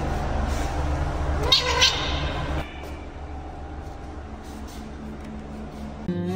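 An angry cat lets out a short, strained meow over a steady low rumbling background, then the rumble drops and quieter muffled sounds follow.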